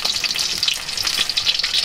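Food fries in a pan with a close, loud, continuous crackling sizzle and no voices.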